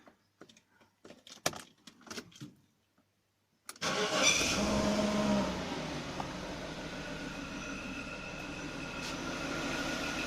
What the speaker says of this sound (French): Donc là on va démarrer la voiture, on va voir ce qui se passe.